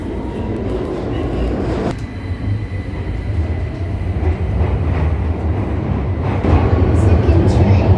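A London Underground train runs steadily on the tube in a continuous, loud low rumble with rail clatter, building slightly toward the end.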